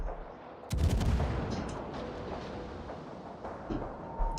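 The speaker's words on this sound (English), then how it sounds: "Let's switch to Endeavor's view and see what he's shooting at." Naval guns fire in a World of Warships battle replay, a booming salvo followed by rolling, crackling reports that fade into a distant rumble, with another thump at the end.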